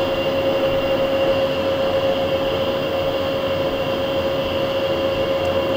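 A metal lathe turns slowly at 34 RPM while the tool takes a light scratch pass on a multi-start thread, giving a steady, loud mechanical hum with a constant whining tone and no talk.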